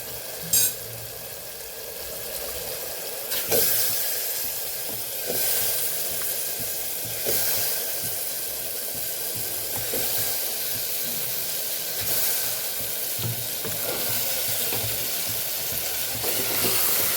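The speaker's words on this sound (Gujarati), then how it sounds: "તો હવે અહીંયા બટેકા અને વટાણાને ઉમેરી દેવાના છે" Potatoes and peas go into hot, separated oil in a pan for a Kathiyawadi vegetable curry. A steady, close sizzle and hiss runs throughout, with occasional clicks and scrapes of stirring and no voices.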